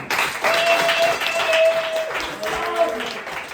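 An audience at a French stand-up comedy final applauds a comedian taking the stage; moderate clapping mixed with voices and a faint tonal background sound continues for a few seconds.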